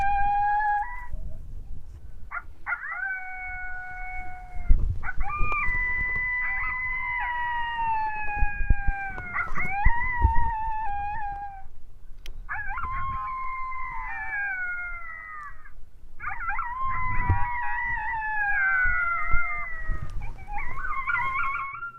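In the badlands during breeding season, a coyote pup serenade call sounds as a series of wavering, high, yipping howls and wails, repeated in several bursts of varying length, nearby and fairly loud over faint low rustling.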